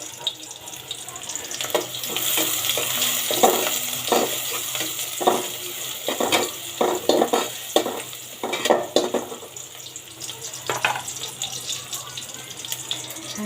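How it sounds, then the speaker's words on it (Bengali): Onions browning in hot oil in a home kitchen for a bottle gourd curry, giving a steady close sizzle with repeated stirring and scraping bursts throughout. "আমি এখন পেঁয়াজটা বেরেস্তা করে নিব।"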